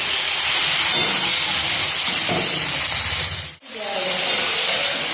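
Chopped onion and sugar frying in hot oil with spices in a home kitchen, a steady close sizzle and hiss with brief scraping stirs, cut off for a moment before the sizzling resumes.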